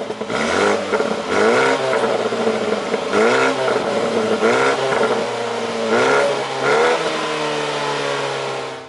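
A BMW M135i exhaust with flaps revs hard again and again in sport mode, each loud burst of engine roar climbing then falling back, close and aggressive with a deep rumble.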